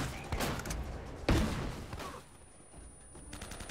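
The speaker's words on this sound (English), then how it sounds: "Oh man, snipers" Sniper gunfire in Uncharted: Drake's Fortune, a few sharp shots cracking out over a busy game soundscape, one heavy report standing out near the middle.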